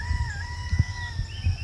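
A rooster crows on a Maui morning, somewhat distant, its long wavering call running the whole time, with a few soft low clucks and thumps underneath and no talking.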